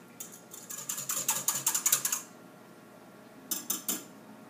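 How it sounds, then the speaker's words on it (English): Yeast and granulated sugar being whisked in a bowl: a rapid run of light metallic clinks and scrapes for about two seconds, then a pause and a couple of brief closer strokes, with no talking. "Go ahead and give that a whisk."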